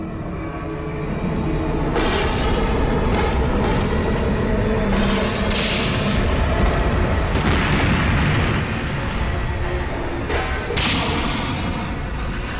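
A nuclear power plant explosion effect from a documentary about life without people: a loud, sustained rumbling blast with repeated crackling bursts layered over a deep roar, continuous throughout with no voices.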